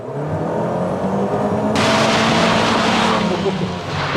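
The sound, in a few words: car setting off on a short drive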